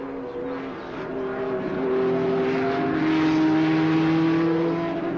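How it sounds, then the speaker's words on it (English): Ferrari and Alfa Romeo Tipo 33 sports racers at the 1972 Targa Florio on a Sicilian mountain road, engines droning steadily with rising pitch as the cars pass by one after another at moderate distance. "There goes the Ferrari. And here comes the Alfa."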